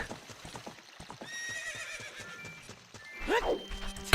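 Epona the horse in Zelda Ocarina of Time, stuck in place, clip-clops with hooves tapping and then lets out a sharp, loud whinny near the end.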